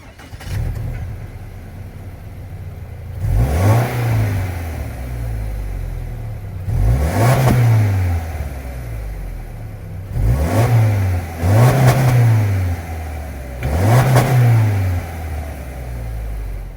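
A Subaru Outback's 2.5-liter naturally aspirated boxer four-cylinder engine idles with a steady low rumble, then revs sharply several times in quick bursts, each rise and fall loud and close.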